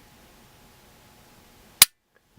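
A single crisp, sharp snap from the trigger of a Glock Gen 5 Model 19 pistol, close and brief after near silence.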